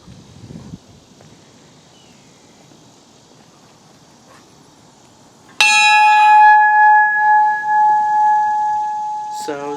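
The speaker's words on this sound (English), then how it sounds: "And I'll make my way over to the bell, and I will give it a nice ring." The USS Monitor's ship's bell, on display at a mariners' museum, is struck once, loud and close. A bright metallic ring sustains and slowly decays after a quiet stretch of room noise.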